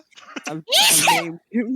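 One sharp, explosive sneeze bursts out loud and close between bits of nearby talk, with a quick gasp-like intake leading into it.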